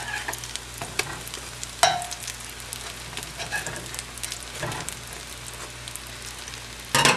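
Sardines fry in a pan with garlic, giving a steady close sizzle with occasional louder clatters and scrapes as the pan is stirred.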